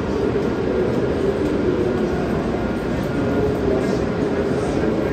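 A Hokuriku Shinkansen bullet train's steady, loud rumble and hiss fills the air continuously at Tsuruga Station, with no pauses.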